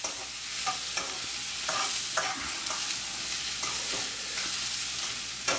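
Curry paste for a Chinese beef curry sizzles and fries in a pan while a spoon or spatula stirs and scrapes through it in steady, repeated strokes, close and continuous with no voices.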